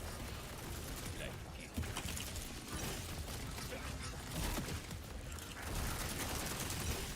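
Video game gunfire with heavy recoil rattles in dense, rapid automatic bursts that run almost continuously, mixed with mechanical clatter and a faint voice underneath.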